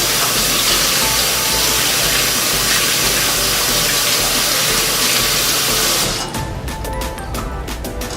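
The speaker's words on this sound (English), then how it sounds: "let's quickly rinse them off" Tap water gushes steadily onto vegetables being rinsed, a loud continuous spray for about six seconds before the flow cuts off and leaves a few faint drips and clatters.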